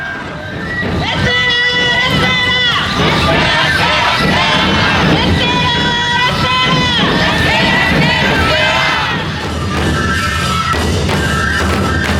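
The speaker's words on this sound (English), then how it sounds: "the chant that is shouted throughout the parade is "Ra-se-ra,"" A large festival parade crowd in Aomori, Japan, shouting the rhythmic "Ra-se-ra" chant: a loud, dense mass of voices calling over and over, with drums and whistles mixed into the steady crowd noise.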